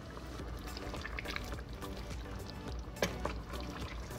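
Olive oil poured for a beef stew of steak meat, a faint liquid trickle and soft splashing in a kitchen, with a small clink partway through.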